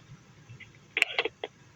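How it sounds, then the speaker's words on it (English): A telephone call is hung up, giving a short cluster of sharp clicks and a final click over a quiet line, brief and fairly close. "So that was a phone click that they just hung up on me"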